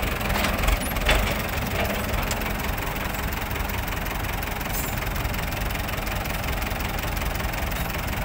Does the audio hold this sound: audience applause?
no